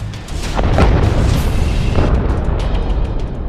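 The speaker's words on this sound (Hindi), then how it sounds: "सामने खड़े आईडीएफ के टैंक पर यह रॉकेट फायर कर देता है, जिसमें बहुत बड़ा धमाका होता है।" Huge blast from a rocket striking an IDF tank in Rafah, a loud booming explosion with a rumbling roar that holds steady and then slowly fades.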